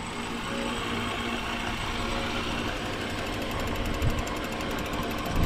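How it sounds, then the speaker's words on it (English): Rescue winch on a high-angle rope system, a steady mechanical whirring and rattling running continuously nearby, with faint knocks near the end. "Good operation on the winch."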